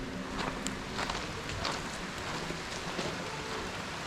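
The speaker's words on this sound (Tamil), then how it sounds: "மழை ஸ்டார்ட் ஆகிடுச்சு," Light rain falls steadily at Leke Leke waterfall in Bali, making a soft, even hiss with faint scattered drops close by. The rain is quiet and no one talks.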